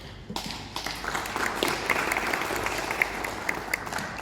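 Audience at a UN keynote speech on urban resilience breaking into applause, with clapping starting abruptly and building into a steady, full round of many hands, fairly close and continuous.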